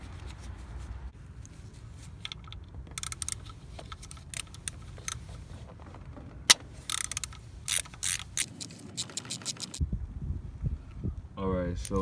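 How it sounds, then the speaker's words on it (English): A ratchet fitted with a size 3 hex Allen key socket clicks in short bursts while loosening distributor rotor bolts on a 1993 Mercedes-Benz 400 SEL W140, with metallic taps and clicks close by and a voice speaking in between. "to remove the rotor, the distributor rotor, you're going to need a size 3 hex Allen key socket"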